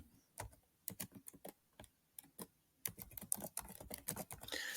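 Keys clatter on a computer keyboard in irregular bursts, with short pauses between words as an email address is entered; close and fairly quiet, with no talking.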